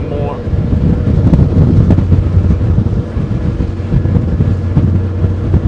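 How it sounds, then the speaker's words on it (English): Loud, gusty wind buffets the microphone with a constant low rumble, swelling and easing slightly throughout. "crazy windy"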